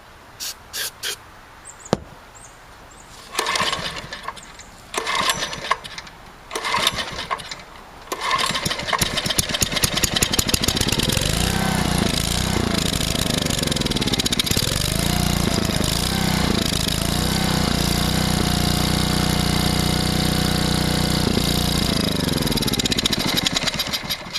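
Small gas engine cranked with starting fluid and the choke open, first a series of sharp pull-start bursts, then catching into a loud, rough, sustained running roar with shifting pitch.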